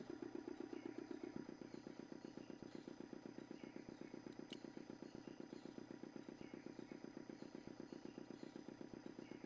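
A generator engine in a video game, started by pulling a lever, sputters briefly and then runs in a steady, rapid, moderately loud chugging rhythm with a faint metallic clatter.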